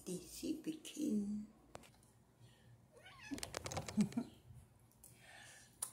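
A pet cat on a cat climber meows a few times in a short series early on, fairly close and clear, with more meows later as a person talks nearby.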